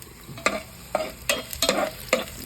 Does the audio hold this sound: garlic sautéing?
yes